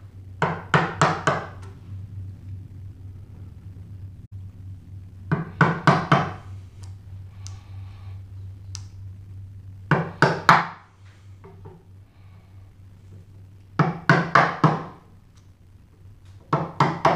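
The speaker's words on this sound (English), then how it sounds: "you're not actually woodworking unless you beat something with a hammer" Bursts of quick hammer blows drive a holdfast into a wooden workbench, three or four sharp knocks per burst, repeated in several clusters separated by pauses, with a steady low hum running underneath.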